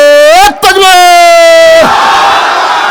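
A preacher's sustained, drawn-out call at a Bangla waz gathering draws a loud, massed takbir shout from the crowd, a dense roar that swells and holds to the end.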